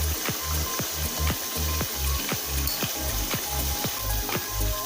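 Ground pepper stirred into a frying Ghana jollof rice base of onion and oil, with a steady sizzle broken by regular scraping strokes of a spoon against the pot.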